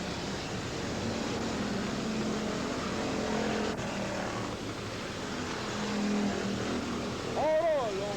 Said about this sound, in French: on continue à fond avec les voitures